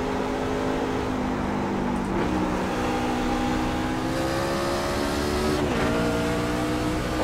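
NASCAR Class C Fixed race car engine in the iRacing sim at Lucas Oil Raceway, a loud steady drone with pitch dropping and climbing through shifts and throttle changes, continuous throughout.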